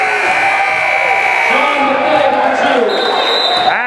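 Electronic buzzer ending a quarter at a high school basketball game, a steady tone sounding near the end over crowd noise and a commentator's voice, with ball bounces and sneaker squeaks.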